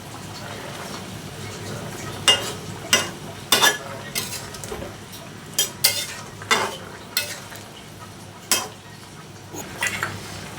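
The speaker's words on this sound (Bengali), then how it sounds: "দেখো ঝোলটা ফুটছে আর এখন আমি মাছগুলো দিয়ে দিলাম" Fish is added to a boiling fish and raw banana curry and stirred, with sharp metal spoon clinks against the pot and a soft bubbling underneath while someone talks.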